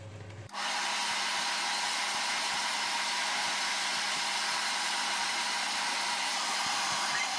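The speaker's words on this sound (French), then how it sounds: "pour le démouler, je vais utiliser un sèche-cheveux" A hair dryer clicks on and blows with a steady, loud whoosh and motor hum as it warms all around a chocolate entremet's removable-bottom cake mould, continuing unbroken with no talking.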